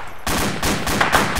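Bursts of gunfire from a close firefight during an operation against a high-value target, loud repeated shots in rapid succession across the whole moment with no talk.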